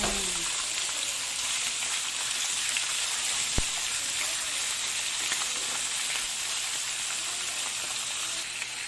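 Onions sautéing in a pan for chicken curry, a steady, even sizzle of frying that runs throughout at moderate loudness, broken by one sharp click partway through.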